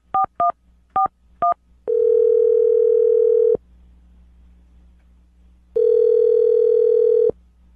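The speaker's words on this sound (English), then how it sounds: "I'm going to dial the phone number right now, get him on the phone" A landline telephone gives four short keypad dialing tones, then two long, steady, loud ringback tones separated by a silent pause, with no one talking.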